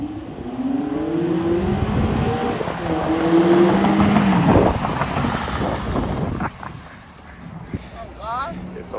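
A Ford Mustang S550 with its first mod accelerates hard in a race, engine rising through several pitch sweeps and gear changes, loud and close with heavy wind buffeting, and people talking over it.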